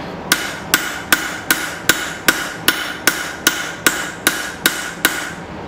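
A hammer forges and thins a utility knife blade on an anvil, twelve sharp ringing strikes at an even pace of about two per second, loud and close, with no talk.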